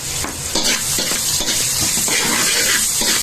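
Onion goes into spare ribs frying in a pan, a loud, dense sizzle with repeated stirring scrapes and clinks of a utensil against the pan, close up and continuous.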